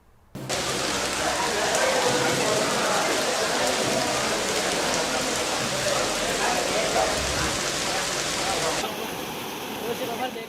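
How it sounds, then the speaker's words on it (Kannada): Heavy monsoon rain in Raichur, Karnataka, pouring as a dense, steady roar that starts abruptly and holds evenly before easing slightly at the end. "ಹಲವು ಜಿಲ್ಲೆಗಳಲ್ಲಿ ಮಳೆ ಅಬ್ಬರಿಸ್ತಾ ಇದೆ"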